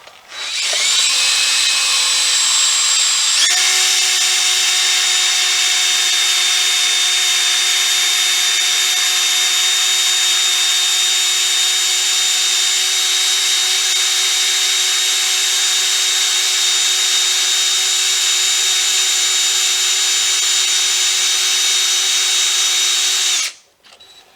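Power drill running continuously with a lubricated bit while working on a 1993 Chevy pickup during ball joint replacement, a loud steady whine that shifts pitch once early on and holds for about twenty seconds before stopping.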